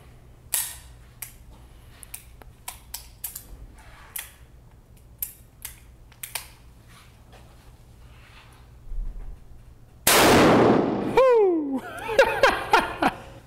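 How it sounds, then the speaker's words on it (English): A .45-70 revolver fires a solid brass bullet into a body armor plate: scattered small clicks and handling noises, then one sharp, loud blast near the end, followed by ringing, crackling echoes. "next up, 4570 in the revolver, 325 grain Steinel, solid brass projectile moving at 1740 feet a second"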